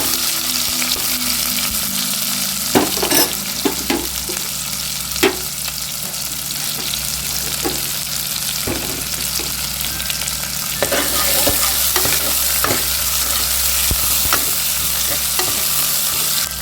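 Onions sizzle steadily in a hot pan while a spoon scrapes and stirs at intervals, close and continuous, with no one talking; cooking for sundal rice.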